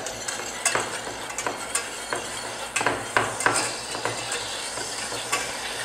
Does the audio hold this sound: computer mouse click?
no